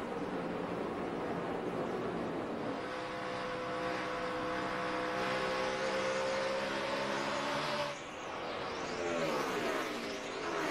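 NASCAR stock cars racing in the 2012 AAA 400 roar past, engine pitch rising and falling as they go by, with a brief dip and then more cars sweeping past.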